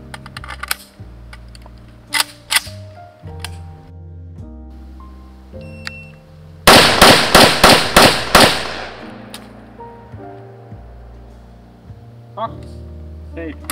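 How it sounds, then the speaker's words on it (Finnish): A Norinco reservist rifle fitted with a muzzle brake fires six rapid, loud, sharp shots in a quick string, with talk before and after the burst. "Aloitetaan tän Norinkon kanssa ja hypoteesi tästä asiasta on tää aika lailla nopeampi ja helpompi ampua, kun tuossa on toi suujarru"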